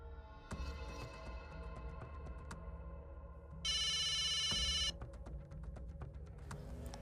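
An old-style telephone bell rings in a steady burst lasting about a second, loud and close, over a busy background of music and room noise in a Hindi-dubbed South Indian film scene.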